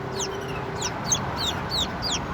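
A female bantam chick chirps repeatedly, giving a quick series of six or seven high, downward-sliding peeps close by over a steady low background hum, with no talking.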